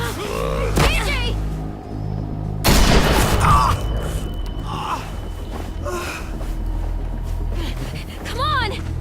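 Gunfire in The Walking Dead video game, with a loud sharp blast midway amid tense music, gasps and shouting voices, a few more scattered impacts trailing afterward.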